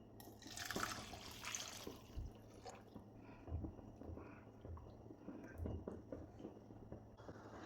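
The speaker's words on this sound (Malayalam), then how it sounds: "തിളച്ച വെള്ളമാണ് ഒഴിച്ചു കൊടുത്തിട്ടുള്ളത്." Boiling water being poured into a pan of sautéed beetroot for rava upma, a faint liquid splash and trickle with small drips, soft and close with no voices.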